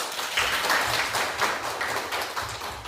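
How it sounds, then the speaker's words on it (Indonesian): Children in a classroom clap their hands together in a quick, steady patter of soft claps for a few seconds, fairly quiet and with no one talking over it. "Oke, tepuk tangan."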